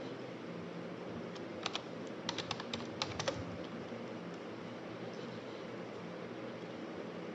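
A file number is typed on a computer keyboard, a short burst of quick, crisp key clicks clustered in the middle over a steady low room hum, with quiet before and after.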